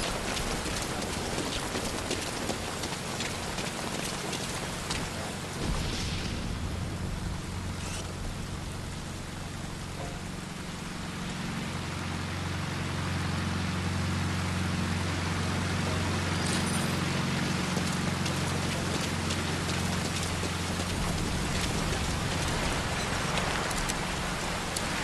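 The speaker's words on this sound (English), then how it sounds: "That rain just won't let up." Heavy rain falls steadily in the video game Metal Gear Solid 5: Ground Zeroes, a dense, unbroken hiss of downpour with a low rumbling undertone throughout.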